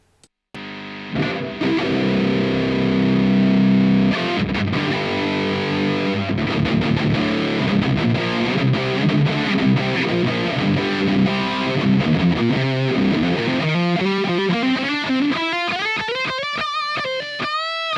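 An electric guitar runs through the Nalex amp sim set to its 5150 lead amp model, giving heavily distorted, loud playing. Chugging chords give way to a rising run of sustained lead notes, with no voices.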